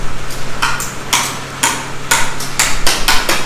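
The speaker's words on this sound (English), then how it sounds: "They're actually chipping away for conduit lines" A hammer strikes concrete at a house build site in the Philippines, chipping channels for conduit lines: a series of sharp, close, metallic blows at an uneven pace over a constant low hum.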